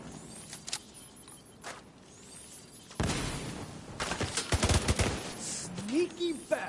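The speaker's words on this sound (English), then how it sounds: "Fine, I'll shoot you again." Gunfire in The Division on Roosevelt Island, with bursts of shots breaking out after a quieter stretch, mixed with game ambience and some talk.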